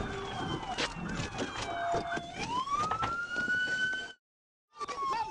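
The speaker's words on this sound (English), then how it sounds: "With the sirens activated" A police siren wails loudly and close, its pitch sweeping up and down, cutting out briefly before resuming.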